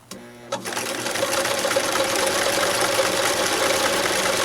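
A sewing machine stitches a tube scarf seam near a folded edge, starting after a brief pause and then running with a steady whirring mechanical buzz, close and continuous.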